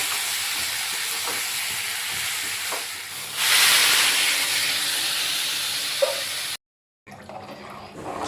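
Vegetables and spices sauté in a pan for vegetarian khichuri, giving a constant hiss that swells louder midway, cuts out briefly, then resumes.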